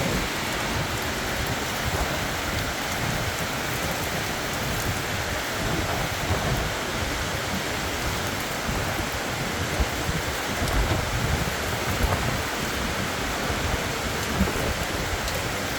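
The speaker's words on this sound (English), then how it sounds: "Rain coming in there, window." Heavy rain pours in a dense, unbroken roar during a thunderstorm in Jomtien, Pattaya, Thailand, with low rumbling beneath the steady downpour, close and constant throughout.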